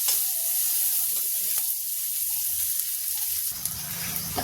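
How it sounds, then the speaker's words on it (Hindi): Onions frying lightly in a pan, a steady close sizzle with faint stirring taps, the texture shifting slightly toward the end. "प्याज भी ज्यादा ब्राउन नहीं करेंगे, हल्का ही भूनेंगे"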